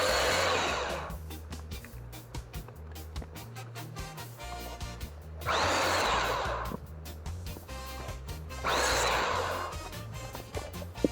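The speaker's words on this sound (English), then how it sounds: "we're going to bring it back over to the miter saw and we're going to miter us some 45-degree angles" Miter saw making 45-degree angle cuts in wood: three bursts of high whining cutting noise separated by quieter stretches of motor hum and clunks, moderately close, with no talking.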